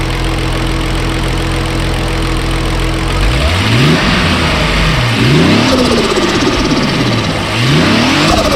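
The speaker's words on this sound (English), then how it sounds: "So we'll do a few revs here." An MK3 VR6 turbo car engine idles steadily, then is revved several times, the pitch climbing and falling in repeated loud sweeps, heard close from the front with no talking.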